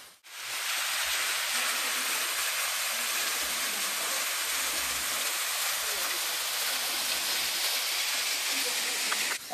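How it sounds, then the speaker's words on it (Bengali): Duka Falls, a waterfall running low on water, gives a constant broadband rushing roar that holds steady and fills the whole stretch without a break. "আর এই হচ্ছে ডুকা ফলস।"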